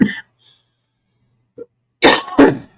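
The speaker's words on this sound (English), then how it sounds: "I want to cough." A cough during a cannabis concentrate dab taken as a cold start: several short, loud, harsh bursts near the end, with faint throat sounds before them.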